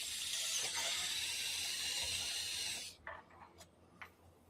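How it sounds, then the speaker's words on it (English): A power drill bores holes into a frame while dock landing lights are installed, giving a loud, steady whine for about three seconds before it stops, followed by a few light knocks and taps. "we're just going to go ahead and drill right here"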